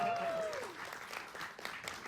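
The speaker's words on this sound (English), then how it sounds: "Solid half theater applause though" Applause from roughly half a theater audience at a live comedy talk show in Edinburgh, a short, moderately quiet burst of clapping that follows a brief tone and continues steadily to the end.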